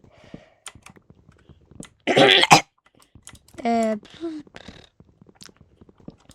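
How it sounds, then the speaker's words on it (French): A harsh, close cough bursts out once, followed by a strained, choking vocal sound, amid scattered keyboard clicks. "quand je tousse, on dirait littéralement que je m'étouffe"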